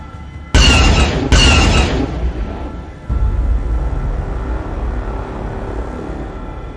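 Twin blaster guns on a swoop bike fire two sharp, loud bursts close together in a Star Wars scene. A rumbling boom follows and settles into a low roar that fades slowly.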